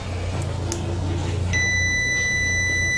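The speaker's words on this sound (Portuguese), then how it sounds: "Escala de continuidade, ela bipa quando há condutores em continuidade" A multimeter set to continuity starts a steady, high electronic beep halfway through and holds it to the end, sounding over a low background hum while testing conductors in a single-phase 127 V electrical installation.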